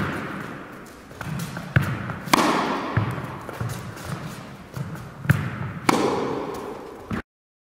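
A tennis backhand struck crosscourt from a semi-open stance, with several sharp racket-on-ball thuds spaced a second or so apart, ringing out close and loud over a muffled court background.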